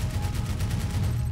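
Gunfire in the Max Payne 3 video game, a continuous rapid volley of shots rattling on at steady volume with no pauses.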